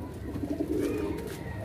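Jacobin fancy pigeons in a breeder's loft give a soft, low throaty coo that swells and rolls through a short stretch, close by, with faint background noise and no talking.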